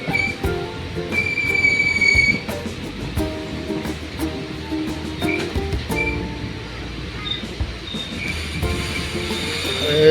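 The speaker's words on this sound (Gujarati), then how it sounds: "મસ્ત મજાનો ટર્ન માર્યો છે હવે ટ્રેને પાટો બદલાઈ ગયા છે" A passenger train rolls through Dhasa junction and crosses onto another track, its wheels squealing in sharp, sustained tones over a steady, loud rumble of rail cars, with no voices.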